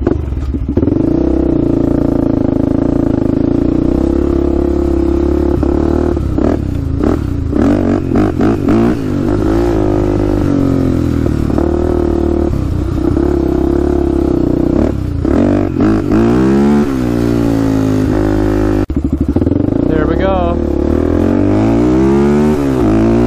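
A Honda 400ex ATV on new tires and rims, fighting a wheel wobble, is ridden with its engine revving up and down loudly and close, rising and falling pitch with some rattling, no talking.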